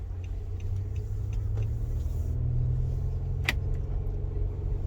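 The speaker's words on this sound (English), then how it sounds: "And yes, I'm driving in my new car." Steady low engine and road rumble from inside a new car while driving, continuous and fairly loud throughout with a couple of faint clicks and a brief higher rattle, no talking.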